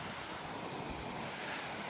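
Water flowing out from within a frozen gorge into a river in Ladakh, heard as a steady, dense rushing wash close to the microphone with wind noise blended in and no voices.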